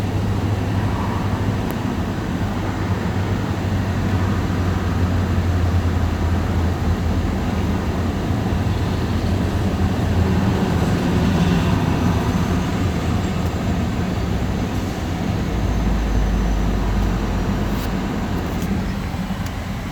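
Union Pacific westbound mixed freight train passing in Texas, a loud, continuous rumble and roar of rolling cars close by, steady throughout with deep low-end vibration.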